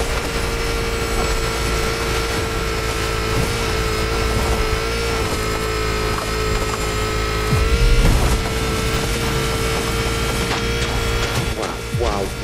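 Volkswagen ID Buggy concept car driven in the racing game The Crew Motorfest, a steady electric-style drive hum with road and tire noise throughout, a brief louder surge midway, and a voice talking over it.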